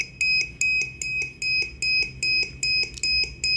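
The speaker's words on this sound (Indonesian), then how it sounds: "Lampu dan buzzer akan menyala setiap 200 milisecond." An Arduino-style buzzer in an ultrasonic distance-sensor project beeps in a fast, steady pulse, each short, shrill electronic tone evenly spaced from the next and repeating without pause.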